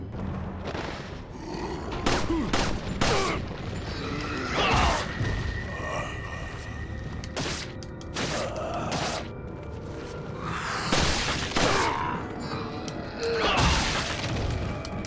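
Punisher handgun shots ring out at a shooting gallery in Resident Evil 4, a string of sharp, loud reports and impacts spaced irregularly over several seconds, with no one talking.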